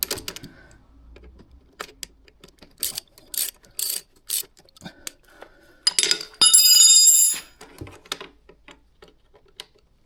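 Wrench work loosening a 13 mm nut and bolt on the gear lever of a KTM 890 SMT motorcycle: scattered close metallic clicks and ratchet-like ticks, with a brief louder rasping burst near the end.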